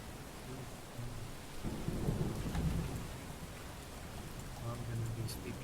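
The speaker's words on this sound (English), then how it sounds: "You can hear some thunder in the distance" Low thunder rumbles in the distance over a steady wash of rain, fairly faint and continuous, swelling once around the middle of the stretch, with no one speaking.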